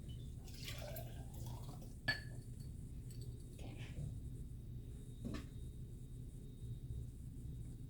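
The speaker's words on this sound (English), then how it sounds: "I'm going to pour this coffee into the mason jar over the sink" Coffee is poured into a mason jar over a kitchen sink: a few soft splashes and trickles with a sharp glass clink, quiet and close, separated by pauses.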